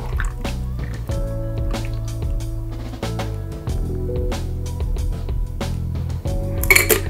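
Pineapple hibiscus tequila cocktail poured through a strainer over ice into a glass: close, steady liquid pouring with bright clinks and cracks of ice, then a louder clatter at the end, with no talk.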